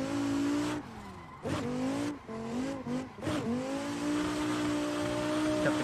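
A Viper in a racing video game, its engine note climbing and dropping through gear changes as tires squeal through skids, loud and close, with repeated sharp shifts across the run and no talk.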